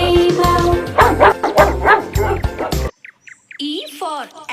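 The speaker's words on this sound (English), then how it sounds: "D for dog" Short dog barks ring out after a children's phonics song with music cuts off, a few quick separate yelps standing alone and fairly loud.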